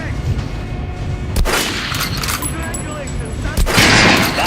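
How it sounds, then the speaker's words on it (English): Rapid gunshots fired at an armored target dummy in the video game Metro Last Light, a few loud sharp cracks standing out over a dense backdrop of game noise. "Now shoot the armored dummy."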